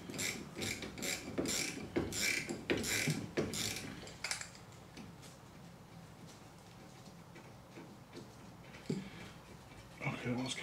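A ratchet works the rear brake caliper bolts off a 2010 Kia Sportage 2.0 petrol, with loud rapid clicking bursts through the first four seconds, then quieter scattered clicks and tool handling.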